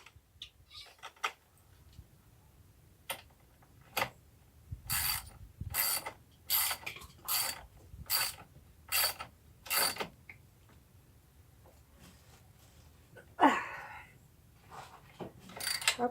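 A ratchet wrench clicks in short bursts while tightening a terminal connection on a nickel-iron Edison battery bank, with a run of evenly spaced, close, crisp ratcheting strokes and a few scattered clicks before and after.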